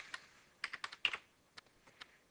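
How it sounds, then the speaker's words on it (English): Several sharp computer-keyboard key presses and a tab key tapped in short irregular bursts, close and fairly quiet, with brief pauses between clusters. "I hit tab on my keyboard"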